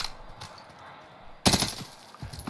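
Burst-fire weapon in Warzone during a recoil test at 15 meters, a couple of short crisp bursts, the loudest one sharp and sudden partway through, fairly faint overall.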